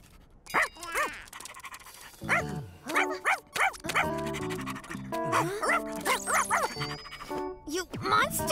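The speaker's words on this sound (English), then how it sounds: "That's just a puppy, not a monster!" A cartoon puppy pants and barks up close in short, lively bursts, with excited character voices talking over and between the yips and huffs.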